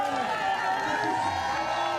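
Broad, steady crowd roar from spectators cheering as triathlete Sam Long mounts his bike at a 2025 T100 race, a dense wash of voices with commentary talking over it.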